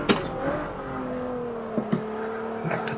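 A car engine in the Forza 7 racing game pulls at full throttle, a steady rising drone that climbs in pitch, with a couple of brief clicks or shifts near the end.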